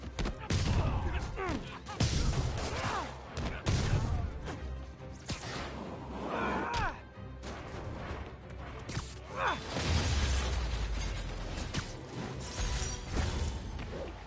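Gunfire from the Spider-Man video game fills the scene with dense, continuous bursts and crashes, loud and busy throughout, with game voices talking over the shooting.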